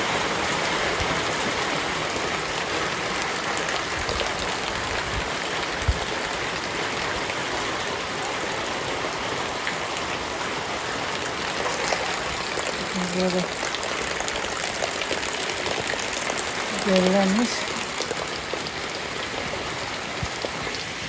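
Heavy stormy rain pours down in a village, a steady dense hiss of drops on surfaces that runs throughout, with a brief voice speaking and a few faint tones near the end.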